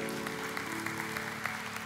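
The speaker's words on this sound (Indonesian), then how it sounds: "Kasih tepuk tangan untuk saudari kita." A church congregation applauds at an Indonesian service, a short burst of steady, even clapping with music sustained underneath.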